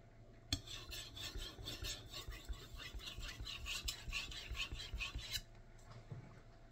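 A Nitro-V steel knife blade rasps in repeated strokes across a 5000-grit whetstone, close and steady for several seconds before stopping, with no talk.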